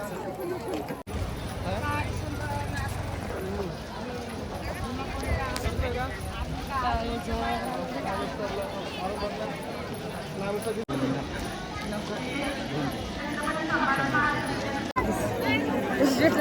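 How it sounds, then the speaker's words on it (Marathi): A large crowd at the Bhima Koregaon gathering, a steady babble of many voices and chatter filling the air, with someone speaking nearby over the hubbub. "मी तुम्हाला बॅक कॅमेरा करून हे सुद्धा दाखवते की गर्दी किती आहे समोर"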